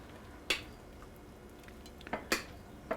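Banana bread batter going into a glass loaf dish, heard as a few faint, crisp clinks of a utensil against the glass spaced out in a quiet room.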